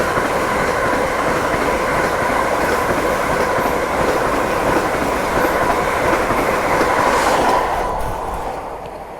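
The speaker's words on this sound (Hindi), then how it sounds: "ये आई भाई साहब फुल रफ्तार में। रफ्तार देखो भाई साहब इसका।" The 12801 Purushottam Express rushes past at full speed, a loud, close, continuous roar of rolling wheels and rattling coaches that fades slightly as the last cars go by.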